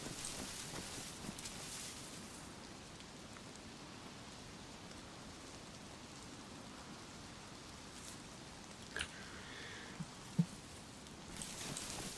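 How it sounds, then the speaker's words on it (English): Steady rain falls in the survival video game DayZ, a soft, even hiss of drops that stays quiet and unbroken, with a few faint isolated clicks near the end. "it's raining"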